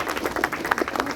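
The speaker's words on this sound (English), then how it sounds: "big round of applause" A brief burst of applause from an audience at a World Nature Conservation Day assembly, a dense patter of many hands clapping together.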